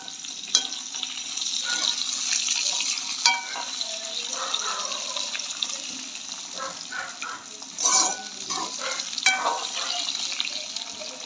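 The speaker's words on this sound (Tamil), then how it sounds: "இதை வந்து இப்போ நாங்கள் எண்ணெயில் நல்லா வதக்கி விடுவோம்." Potatoes sizzle and fry in hot oil in a pan while being stirred, giving a steady crackling hiss broken by scraping stirs and occasional louder spatters, close up with no talking.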